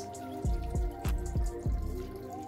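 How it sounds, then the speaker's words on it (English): Beef broth poured into a pan of pasta shells, heard as a run of five distinct dripping, plopping splashes at a steady rhythm, close and moderately loud. "So we'll add some more beef broth in here just to get a little bit more volume."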